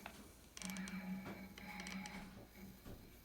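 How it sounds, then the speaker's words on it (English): Servo motor on a Masso CNC controller's X-axis spins with a steady mechanical whir and a low hum, starting after about half a second and running to the end, with light clicks over it. "If I go clockwise, the servo spins in this direction."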